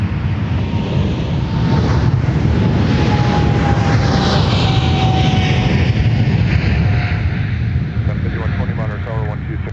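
A fixed-wing airliner lands on runway 35 in a crosswind at MSP airport, its engines giving a loud, steady roar with a faint whine sliding downward across the approach, held continuously with wind buffeting the microphone.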